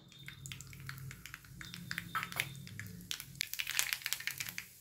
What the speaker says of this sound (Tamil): இப்போ கடுகு பருப்பு பொரிஞ்சிருச்சு.